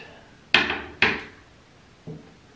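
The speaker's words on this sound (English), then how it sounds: "before I hammer them flat" Three sharp knocks of a hammer flattening wall anchors in drywall or tile: two loud strikes half a second apart, then a softer third tap after a pause.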